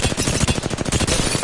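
R-301 rifle fire in Apex Legends: a rapid, loud, evenly spaced automatic burst of close shots that runs without pause for the whole moment.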